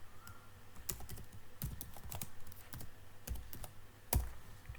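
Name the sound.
typing on a computer keyboard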